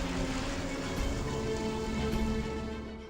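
Heavy, steady rainfall pours down in a dense, unbroken hiss, loud and close, with no voices over it.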